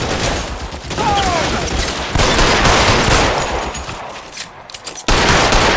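Loud, close bursts of gunfire in L.A. Noire, with rapid overlapping shots forming a near-continuous fusillade that briefly thins before a sharp resumption at the end.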